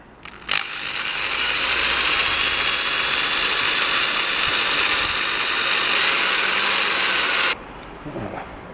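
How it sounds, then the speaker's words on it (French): Electric arc welding on a .38 Smith & Wesson revolver under restoration: a loud, steady crackling buzz starts abruptly, holds for about seven seconds, then cuts off into quieter room sound. "ensuite je vais passer à la soudure à l'arc"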